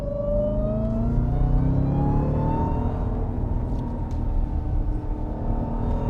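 A supercharged 707 bhp Jeep Trackhawk engine pulls hard and loud from close by, rising steadily in pitch as it accelerates on a country road, with no talking over it.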